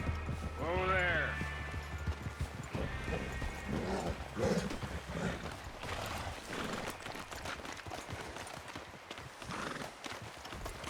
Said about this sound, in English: Arthur! Hey, control that horse!